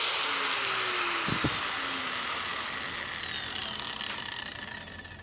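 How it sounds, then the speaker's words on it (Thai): A power tool with a loose blade whirs at high speed with a harsh metallic rattling whine. Short knocks come partway through, and the noise runs continuously before tapering slightly. "เสียงดังเหมือนใบไม่แน่น"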